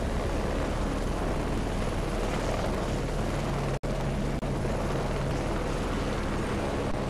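A helicopter in the video game Heliborne makes a loud, continuous rotor and engine roar that holds close and steady throughout, with one brief cutout partway.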